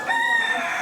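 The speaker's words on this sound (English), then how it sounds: "If that rooster crows one more time" A rooster crows at a busy street market, one loud, close, drawn-out call with a rising then falling tone over faint background bustle.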